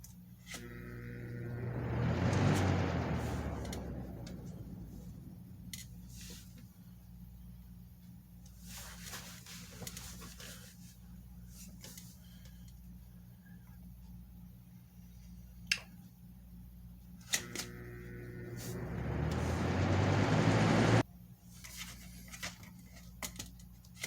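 A restored 2009 Lasko 3733 box fan whirs up with a rising motor hum, runs a while with faint clicks and rattles, then spins up again before cutting off, quiet and near.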